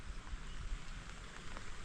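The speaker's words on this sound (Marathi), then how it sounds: "अशा स्वरूपात पाऊस पडतोय छत्रीवर" Steady patter of rain drumming on a taut umbrella close by in Solapur, a continuous dense hiss with faint scattered drops and no voices.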